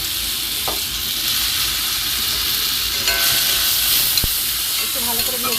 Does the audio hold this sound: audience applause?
no